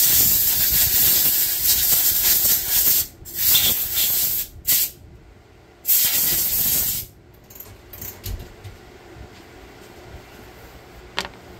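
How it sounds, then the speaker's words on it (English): Compressed air blasts in several loud bursts of hiss against the base of a carburetor air filter during a small engine carb build, with gaps between sprays and a quieter tail of short puffs. "It was some compressed air"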